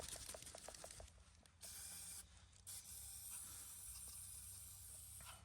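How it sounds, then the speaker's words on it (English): WD-40 sprayed onto rusty bolts holding the under tray of a Toyota 2.0 D4D diesel, a few short hissing bursts followed by long steady aerosol sprays, close and fairly quiet. "Just spray them in there."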